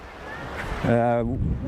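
Beach surf with steady wind noise buffeting the microphone, a broad continuous wash with a brief tonal swell in the middle, fairly close and moderately loud.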